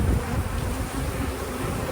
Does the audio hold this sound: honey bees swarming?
yes